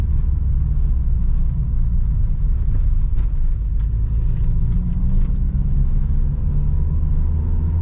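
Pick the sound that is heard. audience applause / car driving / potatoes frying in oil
car driving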